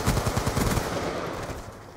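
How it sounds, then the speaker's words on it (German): Automatic gunfire in the shooter game Black Ops 2: loud, rapid machine-gun bursts that crackle through the first part, then trail off into a fading rumble. "Man kann die Schüsse gut identifizieren"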